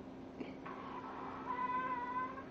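A pug puppy lets out a strange drawn-out whining squeal, tonal and wavering, over faint background hiss, close by.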